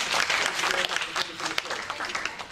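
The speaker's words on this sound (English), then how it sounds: "Can we give a round of applause?" Studio audience applause at a talk show, a dense crowd clapping that swells and then slowly thins, with faint voices mixed in beneath the clapping.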